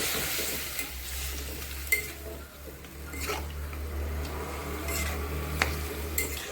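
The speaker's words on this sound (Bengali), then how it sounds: "সরষে বাটাটা দিয়ে একটু নাড়াচাড়া করে দেবো।" Mustard paste and vegetables are stirred in a frying pan, with steady scraping strokes and occasional clinks over a constant low sizzle and a background hum.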